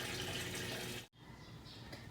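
Water pours steadily into an automatic washing machine during a wash cycle with fabric conditioner, a dense rushing flow that stops abruptly for an instant and then resumes a little softer.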